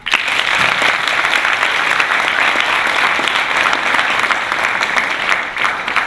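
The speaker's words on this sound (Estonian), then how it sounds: "Ma arvan, et ma võiks neil aplausi tõsta." An audience applauds at a youth job fair awards event, giving steady, dense clapping from a crowd that stays loud and constant for about six seconds before easing slightly at the end.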